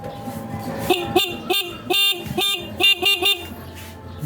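A car horn honks in a rapid series of short blasts, some clustered in quick pairs, loud and close, while the car's wiring is being worked on.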